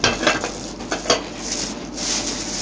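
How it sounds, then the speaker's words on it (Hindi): Kitchen pots, pans and utensils are packed into a box, giving close metallic clinks, scrapes and clatters in uneven bursts, with no talking. "ये भाभी के बर्तन आस्ता आस्ता पैकिंग वगैरह हो रहे हैं"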